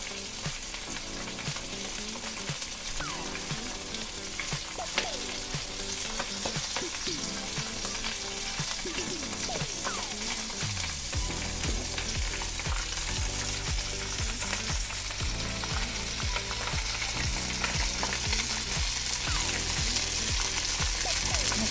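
Flour-coated Japanese sea bass fillet sizzles steadily in a hot pan, a dense continuous frying hiss with occasional utensil clinks, loud and close throughout with no voices.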